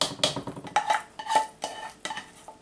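Pumpkin spice mousse mixture scraped and spooned from one container into a bowl, giving quick, close clinks and scrapes of utensil against dishware in an irregular rhythm, with no talk.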